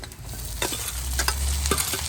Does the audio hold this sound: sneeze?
no